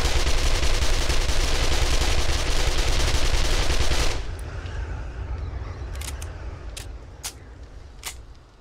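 In the video game 7 Days To Die, a loud, continuous roar of rapid automatic fire lasts about four seconds, then drops to a low rumble with a few sharp, isolated shots.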